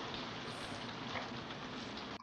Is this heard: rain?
yes